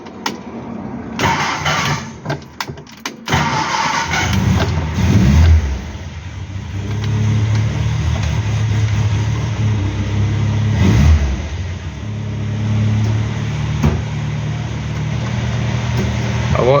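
A Hillman Superminx fitted with a new Powerspark electronic ignition module starts after a few short stuttering bursts of cranking, then catches and settles into a steady, close, continuous engine run.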